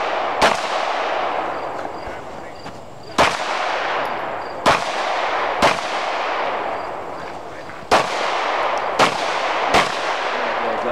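Pistol shots at an IDPA shooting stage, about eight sharp reports spaced irregularly over several seconds, each followed by a long reverberant tail, with no talking between them.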